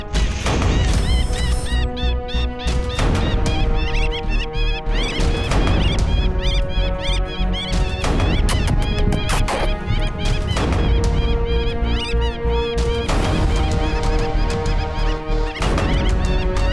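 A predator caller plays a loud bird distress call during a Texas hunt, a harsh, squawking electronic cry repeated in strained, continuous bursts that fill the air close by.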